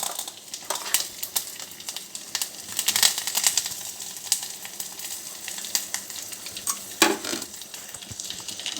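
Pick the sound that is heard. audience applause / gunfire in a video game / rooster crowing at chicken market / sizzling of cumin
sizzling of cumin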